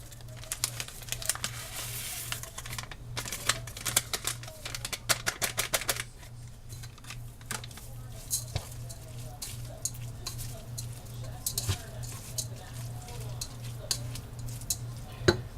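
Ground beef cooks in a pan while onion soup mix is added for loose meat sandwiches, giving a steady close sizzle with repeated sharp scraping and stirring clicks from a utensil, with no talking.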